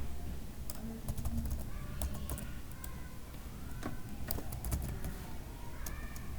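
Typing on a computer keyboard while entering a Google search for Amazon affiliate commission: a steady run of light, close key clicks over a low constant hum, with no voices.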